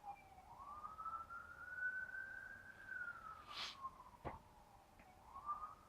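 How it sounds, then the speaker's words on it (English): A police car siren wails as the vehicle comes down a hill, one long rising and falling tone sweeping steadily, moderately distant and clear over quiet street background, with a brief sharp click near the end. "It's there, coming down the hill. It's a police car."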